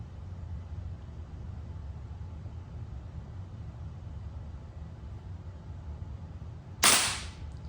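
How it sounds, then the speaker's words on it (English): One sharp, loud gunshot cracks at a shooting range near the end, preceded by several seconds of steady low background noise. "A pretty good looking shot."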